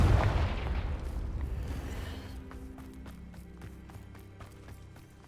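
The Confringo explosion spell is cast in Hogwarts Legacy, producing a heavy booming blast that hits at once and then fades into a rumbling tail. Faint footsteps and clicks follow in the background.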